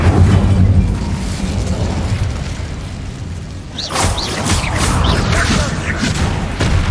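Incendio fire spell bursts in Hogwarts Legacy with a booming, crackling whoosh, following a steadier rumbling stretch; loud and close, layered over game sound.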